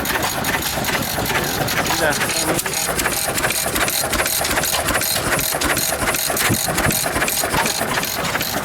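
An antique Model M 6 horsepower stationary engine runs steadily at a steam show, its homemade perforated exhaust pipe giving a loud, rapid, even chuffing beat with metallic rattle, while people talk faintly nearby.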